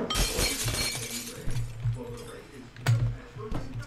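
Glass shattering in a video game's glass break level, several sharp crashing bursts over game noise with a player's voice talking underneath.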